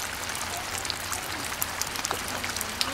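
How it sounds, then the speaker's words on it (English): Steady rain falls outdoors in a cold Finnish setting, a dense, even hiss with scattered sharper drop taps spread through the whole stretch, no voices. "It's raining and it's cold outside."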